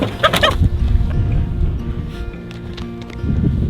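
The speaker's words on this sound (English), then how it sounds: "Got the first rooster" A rooster clucks and squawks while being picked up by hand, a few loud close calls early then scuffling and handling noise around it.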